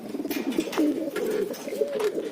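Trained domestic pigeons coo close by in a steady run of low, throaty, rolling calls that overlap throughout, with no talking.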